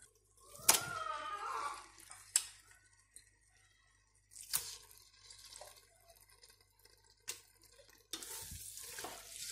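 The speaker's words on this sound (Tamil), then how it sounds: "இப்போது இந்த மட்டனை இதில் சேர்த்துடலாம்." Half a kilo of cleaned mutton is stirred into a frying masala for mutton biryani. Faint, intermittent scrapes of stirring come in separate bursts, with soft sizzling and wet sounds between them and quiet pauses.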